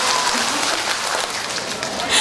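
Audience applause at a music concert, a steady, dense wash of clapping from a crowd, continuous and fairly loud throughout.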